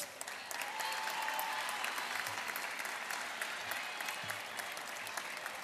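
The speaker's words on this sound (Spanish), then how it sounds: "Recibimos también con un fuerte aplauso" A crowd claps at a university opening ceremony, steady dense applause from many hands across the whole stretch with scattered nearby claps and faint crowd murmur.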